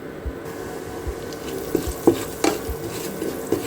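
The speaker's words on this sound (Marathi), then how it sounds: "रवा छान थोडासा भाजून घ्यायचा." Semolina roasting in ghee in a pan, heard as soft, steady stirring with a light sizzle and a few sharp scrapes of a spoon against the pan, close and without talk.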